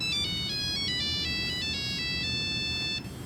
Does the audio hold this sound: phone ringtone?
yes